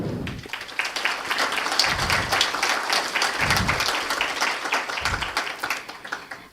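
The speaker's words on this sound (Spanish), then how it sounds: "Queremos brindarle un caluroso aplauso a esta cuna amazónica, a la ciudad del Puyo" An audience at a summit's opening ceremony in Puyo, Ecuador, breaks into warm, sustained applause, steady and dense clapping that continues for several seconds before fading slightly at the end.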